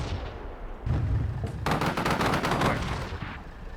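Artillery fire in the military strategy game Combat Mission: Shock Force 2, heard as a dense barrage of booming impacts and cracking blasts that swell after a brief lull and roll on continuously before tapering off.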